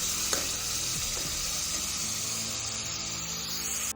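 Masala of onion, tomato, chili, turmeric and salt frying in a pan, a loud continuous sizzle with a few stirring scrapes, close by.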